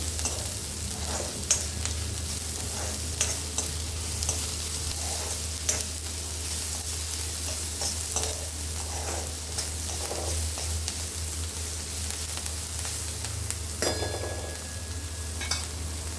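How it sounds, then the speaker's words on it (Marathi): Onion is stirred and sautéed in a pan, giving a constant close sizzle under repeated scraping and stirring strokes, with a brief clatter near the end and no voices. "चांगली ढवळून परतून घेते मी. कांदा चांगला परतून घेते."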